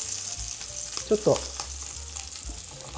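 Pork-wrapped, cheese-stuffed green peppers sear in a pan, a steady close frying sizzle broken by a few brief clatters as they are turned, with a voice speaking quietly over it.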